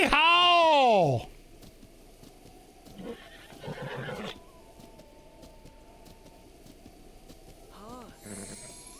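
A horse whinnies loudly and close in Zelda: Breath of the Wild, one long neigh at the start, then quieter game ambience with faint hoofbeats and another brief snort near the end.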